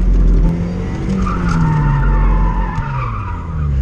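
A Mazda Miata slides on a race track, its tires skidding and squealing in a loud continuous wail, with the engine's rising and falling drone beneath throughout.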